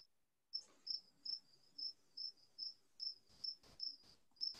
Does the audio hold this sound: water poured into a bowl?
no